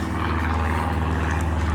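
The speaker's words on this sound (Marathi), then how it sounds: "वरती विमान बघा, विमान किती भारी, छोटंसं पक्षी एवढं विमान आहे ते" A small airplane flies overhead above a Düsseldorf street market, a steady low droning engine hum, fairly loud and unbroken throughout, with no voices.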